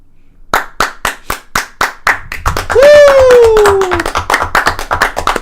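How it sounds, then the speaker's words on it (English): Podcast hosts clap in a studio, a handful of sharp separate claps at first, then quicker overlapping clapping as someone sings a drawn-out tone over it, close and loud. "Just clapping ourselves out."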